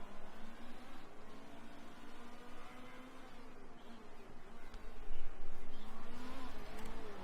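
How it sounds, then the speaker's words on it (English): GT race car engines in the video game Motorsport Manager drone and whine continuously, revving up and down through gears, with a louder surge near the end. "GT cars look and sound good."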